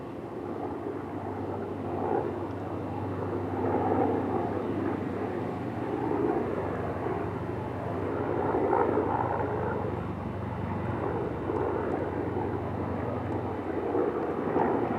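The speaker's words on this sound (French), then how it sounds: "les hélicoptères qui passent." Helicopters pass somewhere overhead as a distant, steady rotor rumble that swells and fades over fifteen seconds, faint and low beneath outdoor ambience with no talk.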